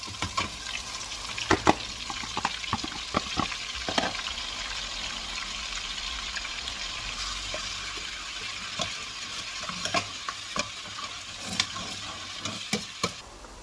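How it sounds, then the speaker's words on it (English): Onions fry in a pot for Nigerian beef stew with a steady, close sizzle, punctuated by scattered clicks and scrapes of a spoon stirring them throughout, with no talking. "So the next thing now is to add the onions."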